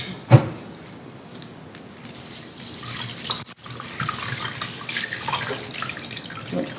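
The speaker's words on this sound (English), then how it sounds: "So we're running out of water there. Let's put more water." Tap water runs into a bowl in a kitchen, starting with a clunk, then a steady rushing stream that grows fuller after a brief pause, close and fairly loud with no talking.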